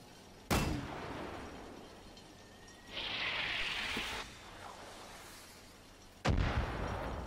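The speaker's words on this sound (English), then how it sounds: "Kill another one with a mortar." Mortar fire in the video game Far Cry New Dawn: two sharp booming blasts several seconds apart, the first early and the second near the end, with a hissing rush between them and a low ambient bed, no talk.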